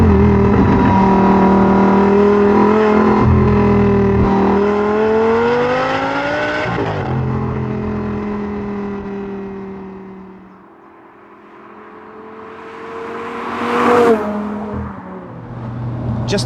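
A Lamborghini Gallardo Superleggera fitted with a Miltech exhaust, a car that revs to an 8,700 RPM redline, climbs loudly through its revs, drops off sharply, then surges again in a second, fainter rise.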